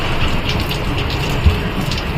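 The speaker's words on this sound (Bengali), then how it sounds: "ভালোই জোরে বৃষ্টি হচ্ছে" Heavy rain pours down in a steady, dense hiss of falling drops with no break, loud and close, with no one talking.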